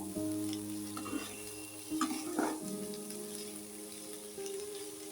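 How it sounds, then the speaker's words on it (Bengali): Gobindobhog rice frying in a pan for paneer pulao gives a steady close sizzle and crackle, broken by a few louder scraping stirs. "চালটা দিয়ে এটাকে ভালো করে একটু ভাজা করে নেব"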